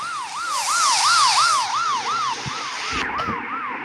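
A police siren wails in a steady rising-and-falling cycle, close and loud, with continuous road and engine rumble beneath it and a brief dropout near the end.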